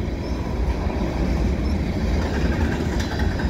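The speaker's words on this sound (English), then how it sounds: "And look at this, a train," A CN eastbound train rumbles steadily past nearby at an overpass, a continuous low roar of wheels and engine with faint rattling, no voices.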